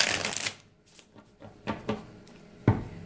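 Radiant Rider-Waite tarot cards shuffled by hand, a burst of crisp riffling at the start followed by several softer, scattered card flicks and one sharper tap near the end, close and quiet with no talking.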